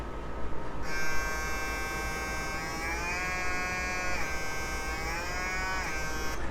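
Stylecraft Instinct hair clipper with an 11,000 RPM motor that speeds up under load, starting with a sharp switch-on into a steady high buzz whose pitch shifts up and down as it meets resistance.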